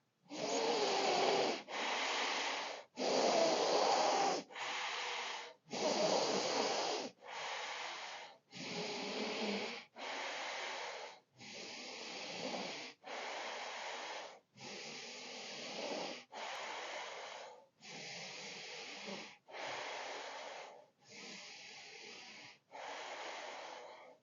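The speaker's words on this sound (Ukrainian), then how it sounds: "Дихання бхастрика, долоньки в нижні ребра." Bhastrika yoga breathing practice: a long series of forceful, rhythmic breaths, each a loud hissing burst of roughly a second separated by short pauses, close and alone.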